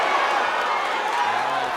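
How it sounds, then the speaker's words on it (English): A boxing arena crowd roars steadily after a hometown fight win, a dense, far-off wash of cheering and clapping that fills the whole moment without a break. "We'll let you listen to the crowd, as I'm sure they're extremely happy"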